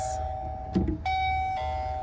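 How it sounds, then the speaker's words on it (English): A wireless video doorbell sounds a steady electronic chime tone, broken by a short bump of handling noise and then resuming, fairly close and alone over a low room hum. "But I can also hit my doorbell, and you'll see that it's gonna connect. And once it rings"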